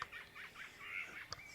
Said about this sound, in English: there's a blackbird singing right above my head in the middle of the farmyard